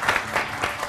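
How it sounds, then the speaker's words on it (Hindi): A studio audience bursts into applause, a dense, steady wash of many hands clapping close by for the whole second, with no voices over it. "ये जो इतना सारी स्पीच है तो उसके बाद तालियां तो बनती है।"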